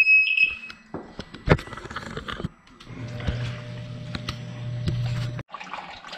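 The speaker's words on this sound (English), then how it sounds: "So the water comes up here, it hits these two prongs, and the alarm goes off." A sump pump high-water alarm sounds a shrill, steady electronic tone for about half a second, then gives way to clunks, a sharp knock and a low mechanical hum with running-water noise in a basement.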